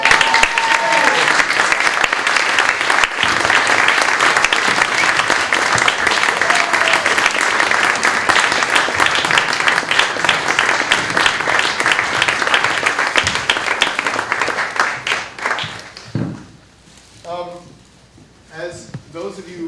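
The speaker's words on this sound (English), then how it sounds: "I also want to give another round of applause to the 10th graders." A theater audience gives loud, sustained applause for 10th-grade performers, dense clapping filling the room for about fifteen seconds before fading, then a voice speaks over the quieter hall.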